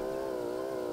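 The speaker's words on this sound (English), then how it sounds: "I can literally hear my motorcycle revving" Steady buzzing engine drone of a motorcycle revving in a bike obby video game, a continuous even tone held for about a second with no talk over it.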